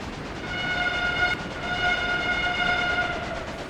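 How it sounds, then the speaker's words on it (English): A steam train in the Railway Empire video game sounds a long, steady multi-tone horn that breaks off briefly and resumes, held over a rumbling rolling-train background. "Who doesn't like to ring the bell or the whistle even?"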